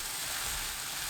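Eggplant, onion and minced garlic stir-frying over high heat in a pan with a splash of water: a brief, steady, soft hiss of sizzling with no talk.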